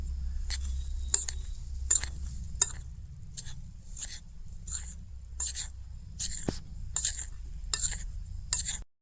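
A spoon stirs and scrapes a dry mix of powdered milk and peanuts in a bowl, giving regular, close, crisp scraping strokes about twice a second with a steady low hum underneath.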